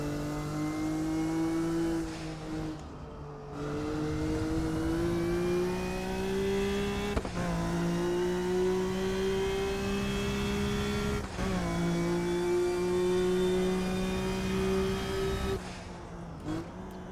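A race car engine in Assetto Corsa with the DRM Revival mod holds a steady, loud harmonic drone, climbing in pitch through successive revs with brief shift dips around 3, 7 and 11 seconds.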